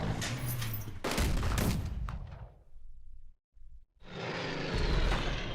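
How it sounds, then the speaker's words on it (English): An airstrike in the Unity of Command II strategy game, with loud rumbling blasts and crackling bursts that fill the first half, then a short near-silent gap before a steady roar of aircraft and detonations returns. "I'm using an airstrike"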